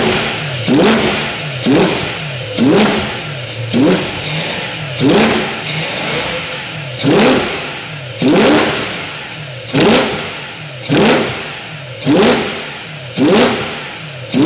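A BMW E92 M3 engine being revved in sharp, repeated blips, about ten evenly spaced bursts that rise and drop back to idle, loud and close with no voices.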